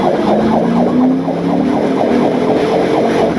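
Police sirens blaring during a high-speed highway chase, loud and continuous with rapid rising-and-falling wails over a roaring engine and traffic noise.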